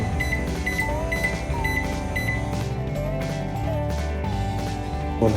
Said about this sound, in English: Now preheat the micro oven at 170 degrees centigrade.